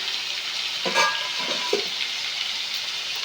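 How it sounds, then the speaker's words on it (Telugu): Prawns frying in a pan as their water cooks off, giving a steady, close sizzling hiss with a few brief louder stirring sounds partway through. "రొయ్యలు కూడా బాగా ఏగనిద్దామండి దీంట్లో ఉన్న వాటర్ అంతా ఏగిపోవాలి"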